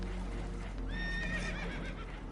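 In the video game Red Dead Redemption II, a spooked horse on a boat taking on water lets out a high, wavering whinny over steady low rumbling background noise, moderately loud and fairly close.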